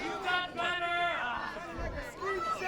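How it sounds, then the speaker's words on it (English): Wrestling arena crowd at a Princex of Pride Championship match cheers and shouts encouragement during a chop exchange, a continuous loud babble of many voices with rising yells, close and steady throughout. "The crowd very opinionated. Urging him on."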